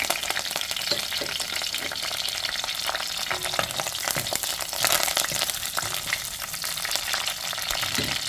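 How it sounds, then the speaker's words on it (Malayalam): Fenugreek seeds and green chillies fry in hot oil for a fish curry, a loud, close, continuous crackling sizzle with some stirring and no voices. "കുറച്ച് ഉലുവ ചേർത്ത് കൊടുക്കാം എണ്ണ ചൂടായിട്ടുണ്ട് പിന്നെ കുറച്ച് കറി രണ്ട് പച്ചമുളക്"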